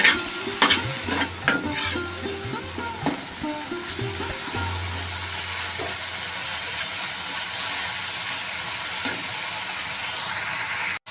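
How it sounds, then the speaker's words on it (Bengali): Jute greens are stirred with spices in a frying pan, giving a steady sizzle with scraping, clattering strokes near the start, then a settled hiss to the end. "শাকটা ভালো করে আমি মশলার সাথে একটু নাড়িয়ে চাড়িয়ে নেব"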